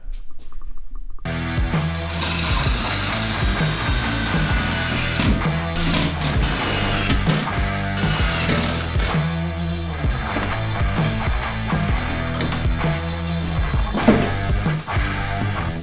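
A power drill drives tek screws into the cowl flange of a 1937 Ford Sedan Delivery during cowl repair. After a brief silence comes a loud, steady, pulsing mechanical whir that runs close up and continuously, with no talking.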